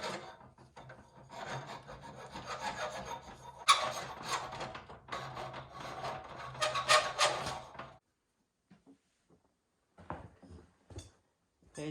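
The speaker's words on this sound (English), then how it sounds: "Just file the end, make sure there's no burrs from when I cut it with the grinder" Metal file rasping across the freshly cut end of a pipe on a Ski-Doo Summit 800 repair, deburring a grinder cut; steady close back-and-forth scraping strokes for about eight seconds, then a few sparse faint taps and scrapes.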